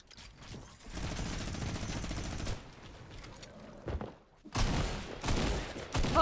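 Dense bursts of video game gunfire from a chopper shooter match, rapid volleys that run for over a second, pause, then resume loudly near the end.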